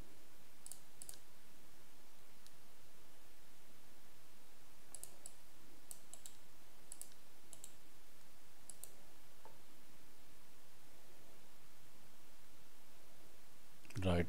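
A computer mouse gives a few faint, sparse clicks scattered across an otherwise quiet stretch, some in small quick clusters, with a louder bump at the very end.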